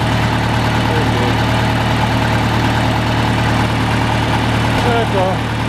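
A farm tractor engine idles steadily and close by throughout while cattle are fed hay, a constant low rumble with a faint voice briefly audible near the end.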